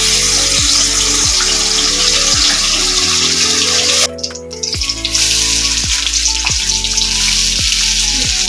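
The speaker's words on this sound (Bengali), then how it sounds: "কড়াইয়ে তেল গরম হয়ে গেছে, সুন্দর করে না কাঁচা মাছ ভেজে নিলাম।" Raw Bombay duck (lote) fish frying in a pan of hot oil, a loud steady sizzle that runs throughout, briefly dipping around the middle, with no talking.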